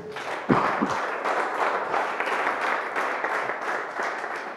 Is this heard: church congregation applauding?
yes